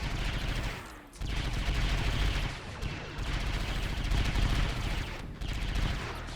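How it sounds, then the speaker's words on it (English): Rapid blaster fire from an AT-ST walker in a Star Wars: Galaxy at War trench battle on Jakku, with dense overlapping bursts of shots that pause briefly now and then amid the din of battle. "the ATST there has to be very specific when it's shooting at the rebels so close to their own stormtroopers"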